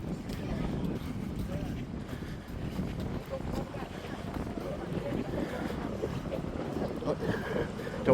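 Steady wind buffets the microphone at a cruise port, a continuous low rumble of gusts with faint harbor background, while people talk throughout.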